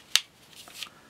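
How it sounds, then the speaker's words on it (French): Fiskars Pro utility knife snapping shut: one sharp, close click, followed a moment later by a second, softer click, with no one speaking. "Je referme, un clic et il est prêt"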